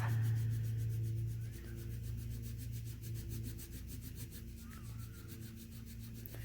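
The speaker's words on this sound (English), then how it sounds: "you can see that my crayon is going up and down to fill in the space" A crayon scrubs up and down across paper, a soft, continuous rubbing with a quick regular back-and-forth rhythm, faint and close, with no voices.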